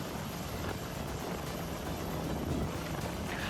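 A Coast Guard helicopter drops food and drinking water to flood-stranded residents in Thoothukudi, its rotor and engine a loud, steady, close roar that fills the whole stretch with no talking.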